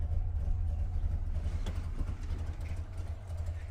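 Wartburg car engine idling just after starting, a low uneven two-stroke putter with individually distinct firing pulses, steady and close with faint background noise.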